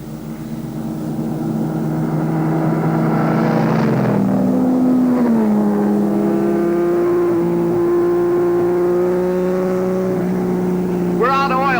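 Race cars in a 1954 film roaring steadily at close range, a loud sustained engine drone with shifting pitch and a sharp rising whine near the end.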